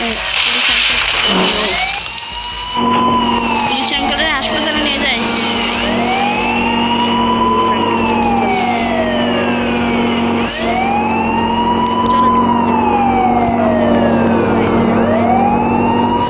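A police bike siren in a 3D bike-riding video game wails loudly in repeated rising and falling sweeps over a steady engine drone.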